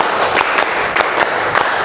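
A class of students clapping together at a school lesson, a series of sharp, evenly spaced group claps landing in a steady rhythm, fairly loud and close.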